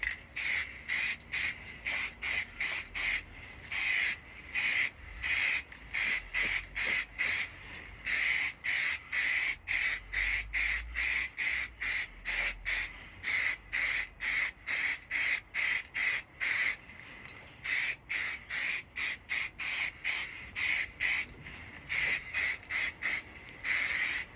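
Repeated bursts of hissing spray from a spray gun applying primer, steady rhythmic pulses one after another, close and loud with short gaps between.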